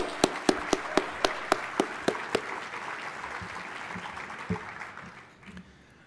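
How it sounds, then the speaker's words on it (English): Applause from a conference keynote audience comes through as a run of evenly spaced, crisp claps, about a dozen in quick rhythm, that stops after a couple of seconds and leaves quiet room tone. "if we could just give them a round of applause"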